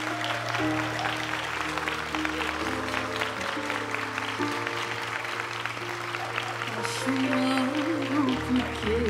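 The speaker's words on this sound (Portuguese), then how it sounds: "Jesse, deste altar, receba os nossos aplausos" A congregation applauds at a memorial mass in Balneário Camboriú, a steady wash of clapping under sustained organ or keyboard chords, with a voice rising briefly near the end.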